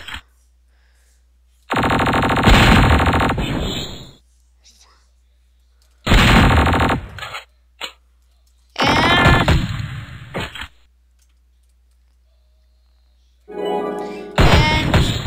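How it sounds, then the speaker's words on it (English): Minigun fire in the Raze 2 video game comes in four loud, sustained bursts of rapid shots, each lasting one to two seconds, with near-silent gaps between them. "Oh, my minigun is low."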